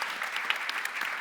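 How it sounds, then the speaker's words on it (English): An audience applauds after a talk on blockchain and business: steady, close clapping from many hands, alone and unbroken for the whole stretch. "Round of applause if it was useful."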